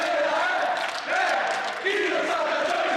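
A wrestling crowd at a NOAH, wXw and PROGRESS match roars and cheers continuously, a dense, loud wall of voices with shouting swells and no break in the noise.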